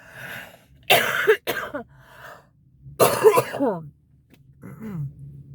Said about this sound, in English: it was one of those coughs.